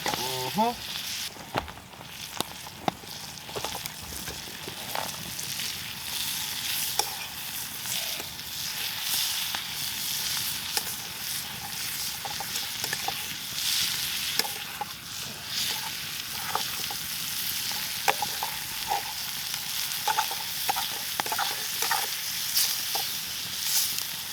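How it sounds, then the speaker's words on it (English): Food frying in a pan on a camp stove in the wilderness, a continuous close crackling sizzle with sharp pops and spits scattered throughout, steady and fairly quiet without voices. "Oh yeah, it's frying up nicely."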